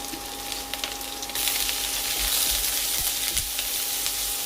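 Curry leaves hit hot oil in a pan with sliced ginger, green chilli and onion for a Kerala tapioca stew, and a loud, crackling sizzle suddenly swells and then keeps bubbling steadily.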